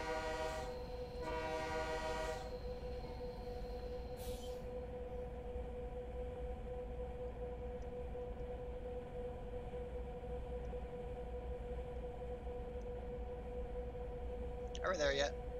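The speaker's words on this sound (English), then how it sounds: "I like having the window open. I like being able to hear the train." A train in Train Simulator 2020 runs with a steady rumbling drone heard from the cab with the window open, with horn blasts near the start and a brief sharp sound near the end.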